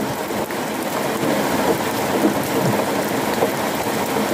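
Constant downpour of rain, a thick uninterrupted patter and hiss that stays at the same level throughout.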